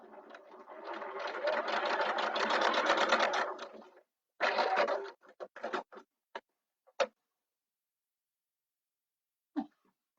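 A sewing machine runs in a steady continuous whir for about four seconds, then stops and starts in short bursts and single stitches before falling silent, ending with one faint clunk.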